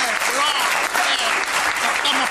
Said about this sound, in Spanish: aplauden con mucho entusiasmo